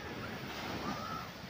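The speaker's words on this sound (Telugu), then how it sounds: "చూడండి, అలలు చూడండి, చాలా మెరుపు వేగంతో వస్తున్నాయి పైకి." Steady roar of ocean waves rushing in at a small beach at Kotha Koduru near Nellore, continuous wash of surf with some wind noise, no talk.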